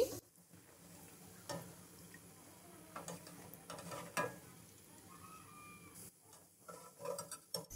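Shahjahani vegetable pakoras frying in hot oil, a soft steady sizzle with stirring and occasional clinks of a utensil against the pan, close and moderately quiet throughout.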